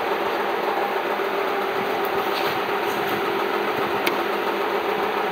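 Gelbo Flex tester motor running steadily, a continuous mid-pitched mechanical hum with broadband whir and a faint click near the end, no voices.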